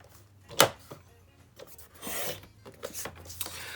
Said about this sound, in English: So first we're going to sit it on your trimmer this way, horizontally, and cut it at the 9-inch mark.